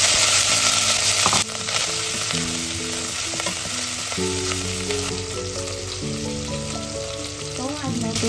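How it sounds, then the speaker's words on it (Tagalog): Bacon and garlic frying in olive oil in a pan, a loud, close, continuous sizzle with occasional stirring, backed by steady background music and no talk. "Then yung garlic, gisa natin. Ayan, add natin ang bacon."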